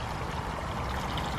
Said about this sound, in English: Can't forget about watering the bunnies.